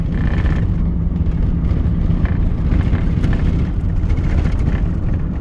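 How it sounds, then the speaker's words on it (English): A car drives along a corrugated outback dirt road, its door shaking and rattling amid a loud, continuous rumble of road and engine noise that never lets up. "The door's literally shaking like independently."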